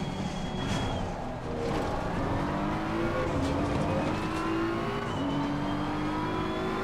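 Race car engine in the Assetto Corsa Competizione video game, a continuous high whine with repeated gear-change pitch climbs and faint tire noise, steady and without talk.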